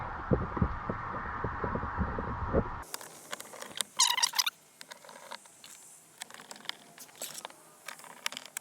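A screw is driven in to refasten the cabin air filter cover on a 2012–2013 Kia Soul, giving a run of close, uneven mechanical clicks and ratcheting ticks. A louder low rumble opens the sequence, and no one talks.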